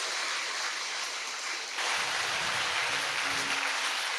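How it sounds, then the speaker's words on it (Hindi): Audience applause at a spiritual gathering, a broad dense hiss of many hands clapping together that swells louder partway through and carries on steadily to the end. "पुनः सब एक दूसरे के लिए तालियों की गड़गड़ाहट करें।"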